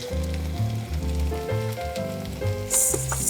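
Kimchi pancake sizzling and crisping in oil in a frying pan, a steady close frying hiss with some clattering and tonal kitchen noise throughout.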